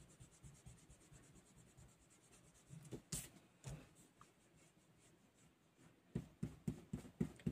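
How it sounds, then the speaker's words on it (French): Pencil lines on paper being rubbed out with an eraser, a soft scratchy rubbing that comes in close, quiet bursts with a few louder knocks, then quicker rhythmic strokes toward the end. "je vais venir gommer"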